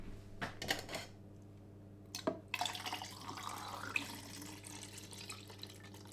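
Bellini Fix film fixer pours in a steady stream after a couple of clinks of containers, splashing softly close by.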